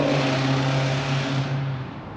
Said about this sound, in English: that exhaust sounds awful